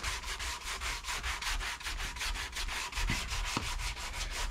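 Steady back-and-forth sanding strokes on the back of an electric guitar neck, working down its thick baseball-bat profile, with an even rhythmic rasp repeating close up and no talking.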